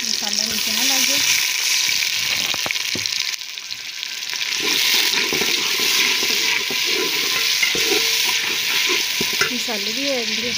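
Masala with red chilli powder and a splash of water sizzling loudly in a pan, a constant bright hiss with stirring scrapes, and a brief voice at the start and end.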